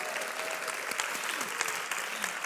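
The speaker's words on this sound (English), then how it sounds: "I have to clap right now." Graduation ceremony audience applauding steadily for the class of 2019, a dense wash of many hands clapping throughout, with faint voices mixed underneath.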